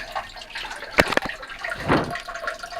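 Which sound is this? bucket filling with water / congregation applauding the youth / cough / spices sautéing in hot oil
bucket filling with water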